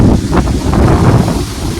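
Strong wind buffets the microphone with a loud, rumbling, gusty roar throughout.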